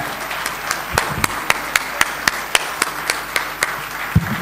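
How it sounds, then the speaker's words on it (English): Audience applause at a wildlife photography award ceremony, a modest, fairly sparse round with distinct individual claps popping out over a softer hand-clapping bed. "Come on, the clap should go very strong."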